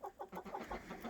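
Backyard hens cluck softly in a quick, steady run of short notes, close by but quiet.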